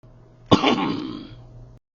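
A single dry throat clearing close up, a sharp onset followed by a rough, breathy rasp that fades after about a second.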